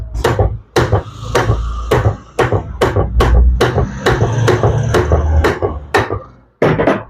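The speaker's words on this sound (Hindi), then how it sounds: "यहाँ पर नट लगा लेते हैं और इसको पीछे ठोकेंगे" Hammer blows knocking on a nut to drive back a part of a Cello jet water pump during repair, about a dozen sharp metallic-wooden strikes in a steady rhythm, loud and close, with a brief pause near the end.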